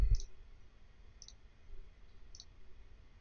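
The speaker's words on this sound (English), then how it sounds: "So let me click on step." Three light, sharp mouse clicks come about a second apart while stepping through a Matlab program, close by and faint above a low background hum, with no talk.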